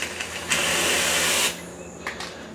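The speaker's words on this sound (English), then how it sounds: "I want to try to lift up any of the soils that may be on this carpet. And steam does a great job with that." A steam cleaner fitted with a microfiber-wrapped pyramid head sends out a loud, close, broadband hiss for about a second as it steams a car's carpet mat, then cuts off to quieter clicks and handling noise.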